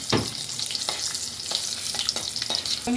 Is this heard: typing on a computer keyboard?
no